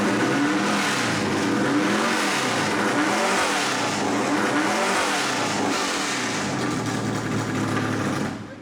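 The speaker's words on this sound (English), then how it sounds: "Rev it a couple more times" A NASCAR race car engine roars at high revs in a pit setting, a loud, sustained droning buzz held steady for about eight seconds before cutting off abruptly.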